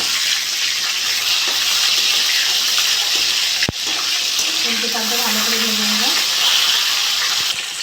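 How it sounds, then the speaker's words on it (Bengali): Freshly flipped pona fish crackle and bubble in a pan of mustard oil, a continuous close sizzle with a brief clatter partway through. "মাছগুলো এক সাইডে ভাজা হয়ে গেছে আমি উল্টে দেবো"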